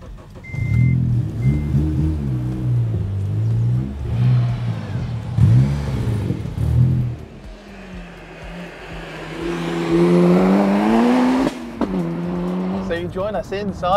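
A Honda Integra DC2 Type R with a K20 engine drives and revs, its engine note rising and falling loud and close from inside the cabin, with people talking over it.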